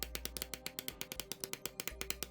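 A leather hole punch being struck repeatedly while punching holes in leather for a Viking Gokstad pouch, a fast run of about twenty sharp, evenly spaced taps over a steady low hum, close and fairly quiet.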